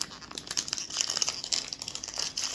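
A plastic package is opened by hand, with close, continuous crinkling and rustling of the wrapper through the whole moment.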